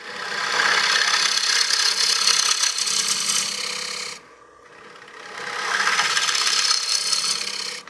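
A wood lathe turning tool cuts a recess into a cake stand, producing a loud, continuous scraping hiss that stops briefly midway, then resumes as the cut continues.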